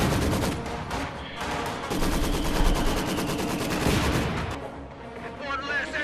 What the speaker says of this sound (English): I've got mortars coming in now.